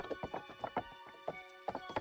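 A horse clip-clops along while being ridden in the video game Kingdom Come: Deliverance, with close, evenly paced hoofbeats in a steady rhythm.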